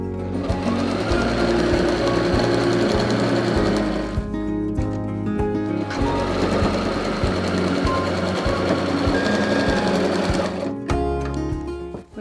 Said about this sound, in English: I'm going to sew it all the way around, leaving a gap so we can turn it the right way in.